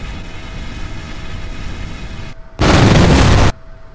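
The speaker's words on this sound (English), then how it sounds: "Just a gigantic rocket that will explode. So I'm gonna see this one explode." A gigantic rocket blowing up in Kerbal Space Program: a steady engine rumble gives way to a brief gap, then a sudden, very loud, wide blast lasting about a second before a quieter rumble returns.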